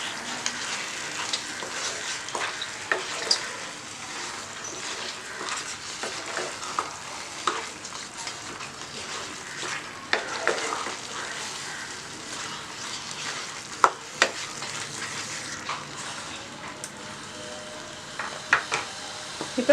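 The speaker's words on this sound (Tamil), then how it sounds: "இதில் நம்ம சிக்கன் போட்டுக்கலாம். இதை நல்லா கலக்கி விடுங்க." Chicken fries with a steady sizzle, a spoon scraping and stirring through it, occasional sharp clinks against the pan, close and continuous, no talking.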